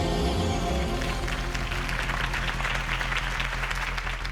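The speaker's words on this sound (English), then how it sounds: "If only Mr. Wayne, my campaign's largest backer, could have heard that applause" Crowd applause in Batman: The Telltale Series, a dense, steady wash of clapping that stays loud and even from start to finish, with a low musical hum underneath.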